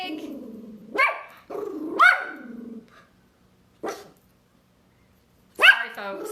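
A dog barks in several loud, close bursts spaced a second or two apart, with a few growly yips between them and a person's voice faintly mixed in.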